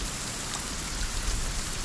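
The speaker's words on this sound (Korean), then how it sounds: "빗소리 좋아요?" Rain pours in the survival game Sons of the Forest, a dense, even hiss of drops on surfaces with a low rumble beneath, heard alone without speech.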